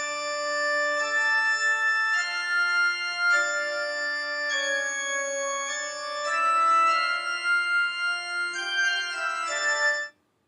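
A fugue subject played as a single melodic line on a keyboard instrument, steady notes moving stepwise, clear and close, ending abruptly after about ten seconds.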